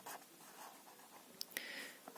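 A pen or marker scratches out a short abbreviation on a board or paper during a geometry lesson, producing faint, quick strokes and a few small taps, quiet and close with no talking.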